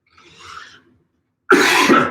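A faint breathy sound, then after a short pause a single loud, harsh cough bursts out close by, sustained for under a second.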